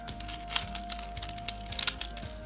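A Rubik's cube is twisted by hand to scramble it, giving quiet plastic clicks and a few sharper snaps in an irregular run, close and faint.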